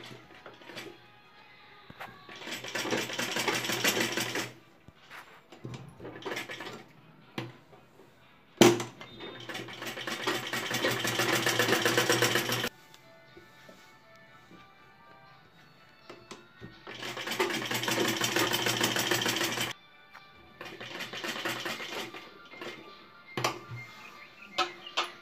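A sewing machine runs a loose basting seam along buckram, in several long bursts of close, rapid mechanical whirring separated by quieter pauses with small handling sounds.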